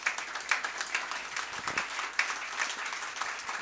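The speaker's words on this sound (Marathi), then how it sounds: "आपण जोरदार टाळ्या वाजवूया." A seated audience at an investor guidance talk breaks into steady, fairly close applause. Many hands clap together in a dense patter for a few seconds.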